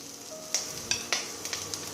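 Vegetables for momo stuffing sauté over full heat in a pan, a steady close sizzle with a few sharp scrapes and clacks of stirring spaced through two seconds, no voices.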